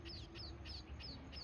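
Baby birds call from a nest in a garden, giving a run of thin, high, rapidly repeated peeping chirps at a steady rhythm over a dull low hum.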